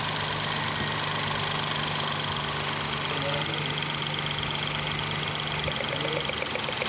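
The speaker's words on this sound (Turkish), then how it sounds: "çektiğimiz anda bakın motor nasıl sendelemeye başladı" Car engine idling with a rough, uneven knock as an ignition coil is pulled off, the steady mid-pitched running starting to stumble and misfire toward the end, close and continuous.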